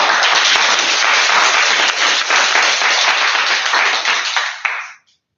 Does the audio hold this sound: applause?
yes